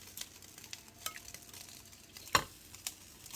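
Marinated chopped steak frying with its marinade in a pan, a faint low sizzle broken by scattered light scrapes and clinks of stirring, one sharper knock partway through.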